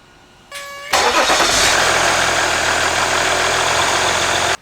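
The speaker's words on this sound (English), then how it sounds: "and we'll get the engine warmed up." A Jeep Grand Cherokee engine is started after an oil change: a brief chime, then cranking that catches into a loud, steady, close idle that runs on until an abrupt cut.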